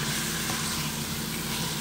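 Chicken pieces sizzling in a pan as their fat renders out, a steady close hiss of frying with a low hum underneath, continuous and fairly loud throughout.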